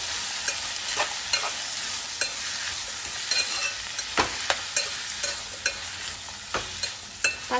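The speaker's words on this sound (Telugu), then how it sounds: "ఒకసారి కలపెట్టుకోవాలి దోసకాయ ముక్కలు వేసుకున్న తర్వాత" Cucumber pieces and onions stirred in hot oil in a pan, with repeated soft scraping strokes and a steady gentle sizzle underneath, close and moderately loud, no talking.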